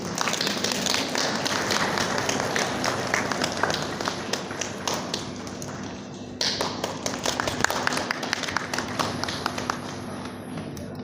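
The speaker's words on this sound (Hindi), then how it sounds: "ताली बजा रही है।" Guests clapping at a church wedding ceremony, a continuous dense patter of many hands that holds steady throughout, briefly dipping and then picking up again.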